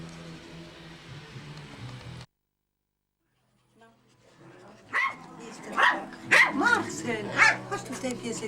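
Small Maltese and Yorkshire terrier dogs yip and bark in short, close bursts after a quiet pause, mixed with a voice talking to them indoors.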